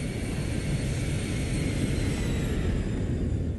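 A Boeing 737 jet airliner in flight: a steady, even engine drone and rushing roar that holds constant throughout, with no talking.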